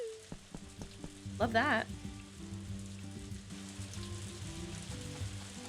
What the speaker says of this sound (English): Oh, it's raining.